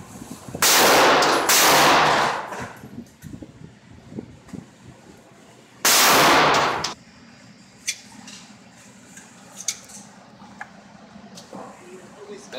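Smith and Wesson M&P 22 compact and Sig Sauer P226 classic .22LR pistols fire in two loud, close bursts separated by a pause, followed by quieter clicks and handling noise.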